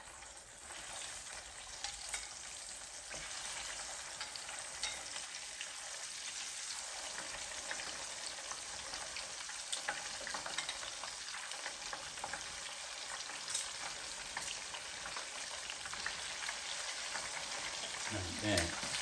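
Chicken party wings cooking in a Power XL cooker give off a steady, even sizzling hiss with faint crackles that runs unbroken for the whole stretch, with no talking.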